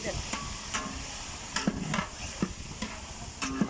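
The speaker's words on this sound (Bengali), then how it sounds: "গরম তেলে দিয়ে আমরা এগুলা ভালো করে নাড়িয়ে নেব" Goat meat being stirred in hot oil in a large wedding-style rezala pot crackles with a low sizzle, punctuated by irregular metallic clacks and scrapes of the spoon against the vessel.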